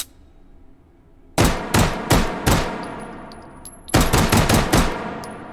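Beretta M92 pistol firing in the VR shooting game H3VR: two quick groups of loud, sharp shots, about four in the first burst and five in the second, close and without talk.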